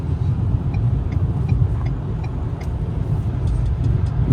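A 2022 Ford Maverick Lariat with a 2.0T engine and AWD accelerating: a steady, close, droning engine rumble with road noise, continuous and even in loudness and with no talk.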